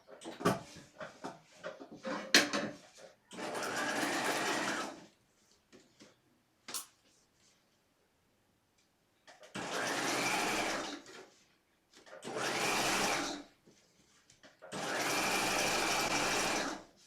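A sewing machine stitches the princess seams of a corset muslin in several sustained bursts of a few seconds each, separated by short pauses with small handling clicks and rustles.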